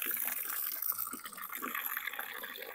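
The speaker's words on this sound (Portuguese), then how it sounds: "vou encher mais de água" Water pours into thick homemade liquid laundry soap to thin it, a faint steady trickling and splashing close by with no talk.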